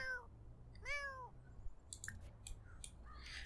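A cat meows twice in the life-simulation game The Sims 4, with rising and falling tones up close, followed by a scatter of short clicky interface sounds over a quiet background.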